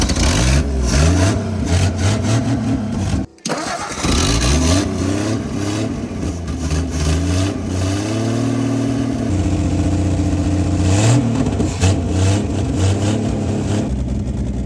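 A Ford Edsel engine with a poorly rebuilt carburetor runs loud and close, its idle climbing into repeated hard revs with one brief cutout near the start, no voices over it.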